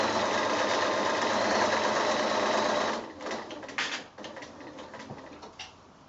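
Sewing machine stitching a hexagon mug mat, running in a steady continuous whir for about three seconds, then stopping and restarting in short bursts as the fabric is pivoted at a corner.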